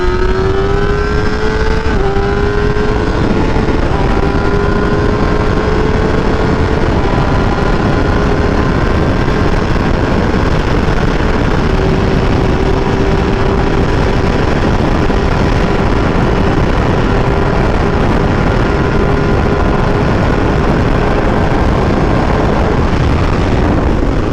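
A 2021 Kawasaki Ninja ZX-10R at full throttle screams continuously and loudly close by, pitch climbing steadily through a gear with a brief shift near the start, engine roar dominating with wind rush.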